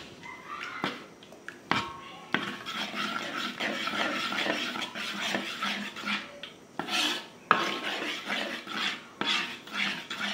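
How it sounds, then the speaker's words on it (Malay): Chocolate is stirred into whipping cream in a bowl for a crunchy kek batik, making repeated scraping and rasping strokes against the bowl with occasional sharper knocks, close and fairly loud. "Gaul sampai coklat ni betul-betul hancur dan sebati dengan whipping cream"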